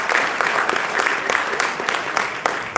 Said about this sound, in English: Request a big round of applause to our panelists.